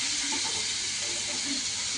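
Potatoes and vegetable stalks fry together in hot oil in a wok, giving a steady, dense sizzle and hiss that runs unbroken and fairly loud throughout.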